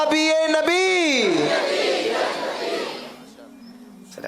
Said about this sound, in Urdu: نعرے لگائیں